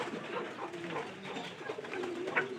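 A pigeon kept in a home loft coos in soft, low, repeated calls, fairly close and steady, with no talking over it.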